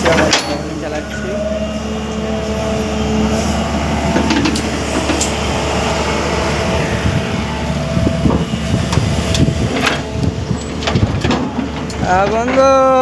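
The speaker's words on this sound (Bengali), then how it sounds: "আজকে পকলেন আমি চালাচ্ছি" A Poclain excavator's engine runs steadily throughout with a low continuous drone, under rumbling, clanking work noise and some talk in the background.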